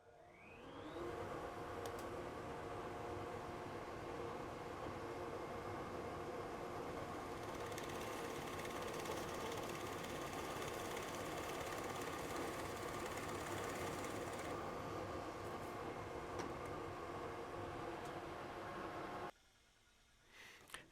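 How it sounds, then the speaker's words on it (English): A workshop dust collector runs continuously after drilling Forstner bit holes in wood, a dense, steady mechanical roar with faint rattling that holds at even loudness, then cuts off near the end, no voices. "So I'll turn the dust collector on."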